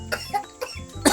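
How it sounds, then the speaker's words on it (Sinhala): A person nearby coughs several times in quick, sharp bursts, with short throat-clearing breaths in between. "පොඩක් කැස්ස මේ දවස්වල"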